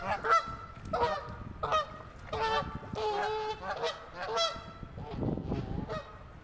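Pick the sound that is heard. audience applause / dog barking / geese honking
geese honking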